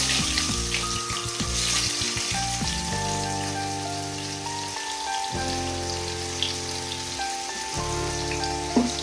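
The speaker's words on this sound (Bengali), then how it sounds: "পেঁয়াজটা একটু ভাজা ভাজা হবে।" Sliced onions frying in oil with bay leaves in a pan, a soft continuous sizzle under loud sustained background music throughout.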